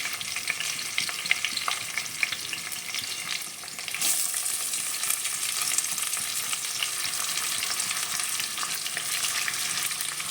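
Onions, with green chillies, fry in hot oil for a soya granules curry, giving a constant close-up sizzle and crackle that grows slightly denser partway through, with no voices.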